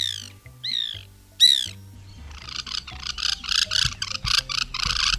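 Loud, repeated calls of a white woodpecker, a few sharp rising notes followed by a rapid series of harsh chattering calls, close by, with faint low noises underneath.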